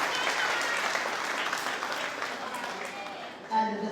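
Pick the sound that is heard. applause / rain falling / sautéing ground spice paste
applause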